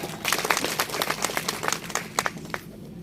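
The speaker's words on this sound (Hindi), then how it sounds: "इसके लिए आप सभी एक बार अपने लिए तालियां बजाएं" Scattered handclaps from an audience at a Jayas event on a government stage marking Tantya Bhil's martyrdom day, uneven and fairly close, thinning out and stopping near the end.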